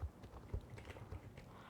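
Horse hoofbeats in the Star Stable game, a faint rhythmic clip-clop of hooves at a steady walking pace, quiet and alone.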